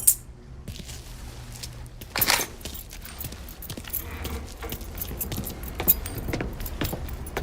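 Keys jangle and clink in the video game Mafia 3, a short metallic rattle up close at the start and middle, set against a low rumble of vehicle and ambient game noise.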